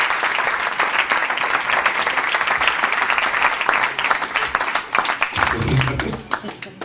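A church congregation claps and applauds in a dense, continuous roar that tapers slightly toward the end, with voices mixed in underneath the clapping.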